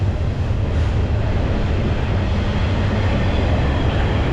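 A train passing near a riverside cycling route, a steady broad rumble and roar filling the whole stretch without break, loud and close, with wind noise mixed in and no talking.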